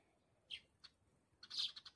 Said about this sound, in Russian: Птички. Что разорались,